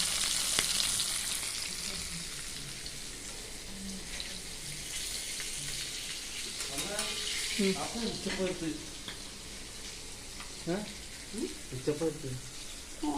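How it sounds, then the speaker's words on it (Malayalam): Mackerel sizzling as it fries in a pan for a Kerala-style fish fry, a steady bubbling crackle throughout, with occasional utensil clatter and a person talking over it. "ഒരു സൈഡ് നന്നായി പൊരിഞ്ഞ് വന്ന ശേഷം തിരിച്ചിട്ട് വെക്കാൻ മതി"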